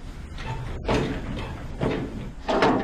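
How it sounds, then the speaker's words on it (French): A locked door on an old prison building on Devil's Island is tried three times, each pull giving a dull rattling knock against the frame amid outdoor background noise. "Bon, la porte est verrouillée."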